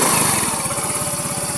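A motorcycle engine, newly repaired after failing to start, runs at a steady idle with a fast, even putter of firing pulses, close and loud throughout with no talk.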